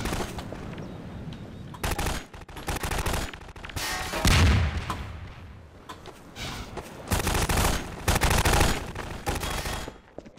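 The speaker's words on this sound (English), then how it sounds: "Shooting at me, what's going on?" Gunfire aimed at the player in the Half-Life 2 video game comes in loud, dense bursts of rapid shots, with several volleys separated by short quieter gaps and a booming impact midway.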